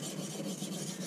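A steel knife edge is rubbed along a soft Arkansas sharpening stone, producing a quiet, continuous close-up scraping rasp.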